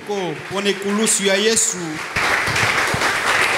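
A church congregation bursts into applause and cheering for the cross after a preacher's voice, a loud wash of clapping and shouts taking over in the second half.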